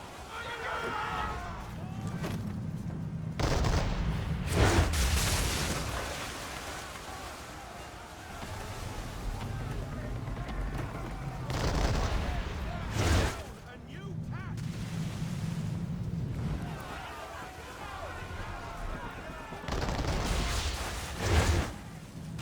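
Gunfire aimed at the player's ship during a naval battle in Assassin's Creed 3 Remastered: distant cannon booms and crackling musket volleys arriving in several separate bursts under steady sea and ship noise, with someone talking throughout.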